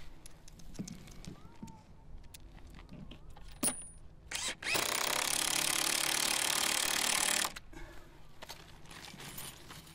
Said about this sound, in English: I'm using an impact wrench here to do the deed